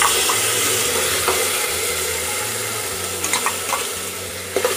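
Onions frying in a pan until light brown: a steady, loud broadband sizzle fills the whole stretch, with a few soft clicks and stirring knocks near the end and no talking.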